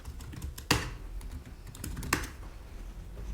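Computer keystrokes typing a git rebase command, a light irregular patter of key taps with two sharper, louder strikes, close and alone with no talk.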